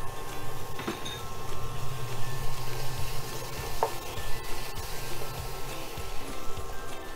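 A spoonful of turmeric paste is stirred into spice paste frying in a pan for a prawn curry, with a steady close sizzle and occasional scraping strokes, no talking.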